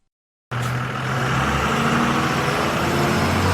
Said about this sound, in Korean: 멀리서 낡은 어선의 엔진 소리가 들려왔습니다.